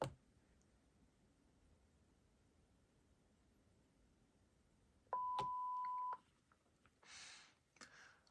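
Key beeps from a Panasonic KX-TG5583 cordless phone handset: one steady electronic tone of about a second, then a couple of softer blips and a short noisy burst, all close and quiet against a faint background hiss.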